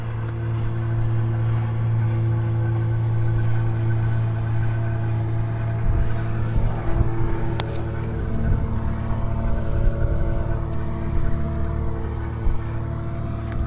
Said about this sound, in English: Let's just wait for this boat to pass.